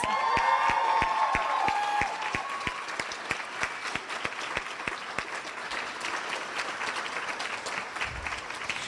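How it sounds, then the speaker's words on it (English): A crowd at a nursing pinning ceremony applauding steadily, many hands clapping at once, with some individual claps standing out nearby as the applause continues. "Let's give them a big round of applause."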